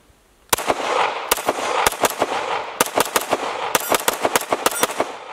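Springfield 1911 DS Prodigy pistol fitted with a compensator fires a long string of sharp, loud, close shots, at first spaced out, then in quick bursts.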